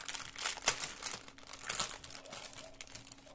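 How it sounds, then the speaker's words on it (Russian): The plastic packet of a LEGO Ninjago set crinkles and tears as it is pulled open up close, a few seconds of sharp crackling rustles with one louder rip. "у нас традиционно здесь открывается пакетик"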